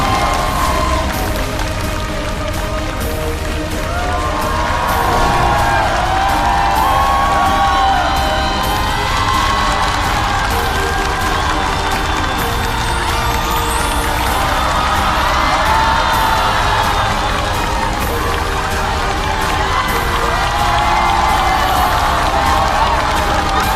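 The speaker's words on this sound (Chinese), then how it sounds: "掌声欢迎今天的嘉宾们" A studio audience greets guests arriving on a stage show with sustained cheering, whoops and shouts over loud applause that runs on without pause, dense and close.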